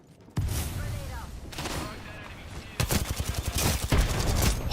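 Video game combat with gunfire and grenades: heavy bursts of rapid automatic fire and booming blasts hit close and loud, with a voice talking over the shooting.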